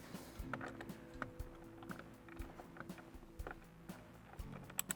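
A 10mm bolt is backed out of a C8 Corvette Stingray steering wheel, giving quiet metallic clicks and ratcheting taps in quick irregular bursts, close but faint, with no talking.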